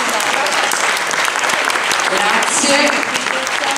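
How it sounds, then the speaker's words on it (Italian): An audience gives loud, continuous applause at an award ceremony of the 2018 Florence Queer Festival. The clapping is close and dense, and a speaker briefly talks over it. "Un applauso."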